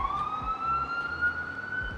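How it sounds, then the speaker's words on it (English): An emergency siren wails steadily on a road lined with hospitals, a rising tone with a constant drone underneath and a faint low rumble of traffic. "sorry about sirens. For some reason I decided I had to live beside a hospital"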